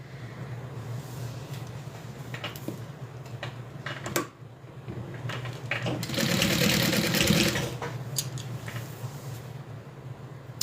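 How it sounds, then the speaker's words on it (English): A sewing machine runs a burst of stitching on a zip-around wallet, a steady mechanical whir lasting a couple of seconds amid a few isolated clicks and handling taps, close and fairly loud. "I'm just gonna do a stitch just to keep this together until we need it."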